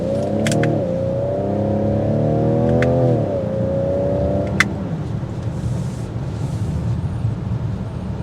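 A 2022 Ford Edge ST in sport mode pulls away from a stop. Its engine note rises through the gears with two audible upshifts, then settles into a quieter cruise with a brief click midway.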